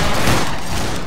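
A line of muskets fires one thick, roaring volley in the video game Battlegrounds 3, loud and sustained for the full second with no talking.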